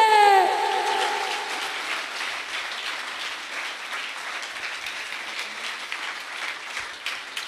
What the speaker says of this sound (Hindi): भरपूर तालियों से उसको जलाल दे